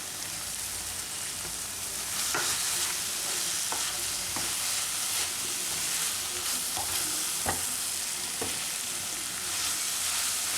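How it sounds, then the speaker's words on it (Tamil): Chilies sauté in hot oil with a dense, steady sizzle, while a spoon scrapes and clinks against the pan at irregular intervals. "மிளகாயை சேர்த்துட்டு அதை எண்ணெயில் வதக்கி விட்டுட்டு நம்ம சேர்க்கணும்."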